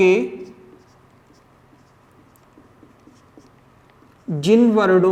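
Soft, scratchy strokes of writing on a board run continuously for a few seconds, faint and close, after a teacher's voice fades out and before speech resumes.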